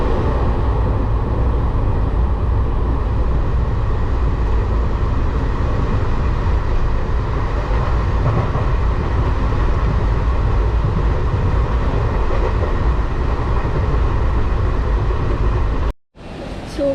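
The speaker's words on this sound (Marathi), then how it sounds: "आणि आता निघाली आपली ट्रेन." Moving train after departure, a steady loud low rumble with continuous rolling noise for most of the stretch, cutting off abruptly near the end.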